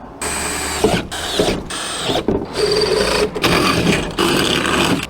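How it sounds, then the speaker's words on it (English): Power drill working during an LED lightbox installation, running in several separate bursts of whirring with short gaps between them, loud and close. "All right, let's drill."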